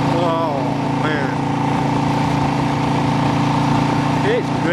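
A motorcycle engine idles steadily close by, a continuous low harmonic rumble with a slight wavering pitch that runs through the whole stretch, and a voice speaks intermittently over it.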